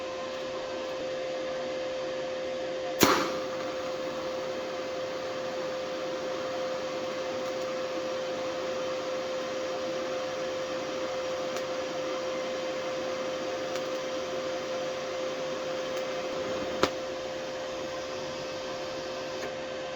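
A budget GIANTZ TIG welder runs with filler rod fed in and the amps turned up, giving a steady, even hiss and hum throughout, broken by two sharp clicks near the start and end.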